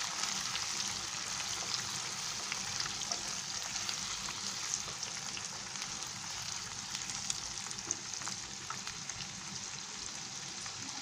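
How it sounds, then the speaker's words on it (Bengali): Onion paste for a Bangladeshi prawn malai curry fries in a pan with a steady, close, crackling sizzle that holds evenly throughout, with no talking. "পেঁয়াজ বাটাটা দিয়ে বেশ কিছুক্ষণ একটু ভেজে নিব।"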